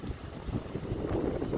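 Strong December wind blowing outdoors, roaring as a steady rumbling buffet on the microphone that builds slightly in gusts, with no voices over it.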